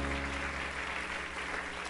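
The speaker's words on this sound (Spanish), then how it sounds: "Dele un aplauso fuerte de alabanza a Jesús." A church congregation at a Spanish-language service claps in a brief, steady burst of dense applause, with a low hum running underneath.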